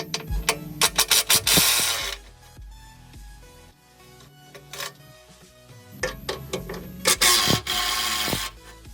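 Ratchet wrench taking off four 15mm bolts on a Ford Bronco Raptor, two bursts of rapid clicking ratchet strokes with a quieter mechanical pause between, close and alone.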